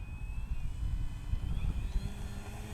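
FMS Pitts 1400mm radio-controlled plane taking off on a slick runway, a steady moderately distant electric motor buzz with faint rising whines, no talking.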